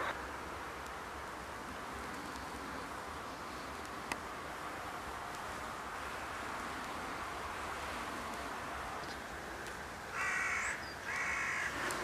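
Carrion crows cawing in a snowy, foggy landscape in March, a few harsh caws toward the end over steady wind-like background noise, fairly distant.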